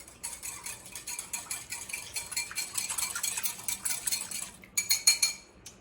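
A bowl of kitchen sink salad being tossed with white vinegar, kosher salt and chili pepper, a steady close clatter and scrape of utensils against the bowl that grows busier and ends in a few sharper clinks.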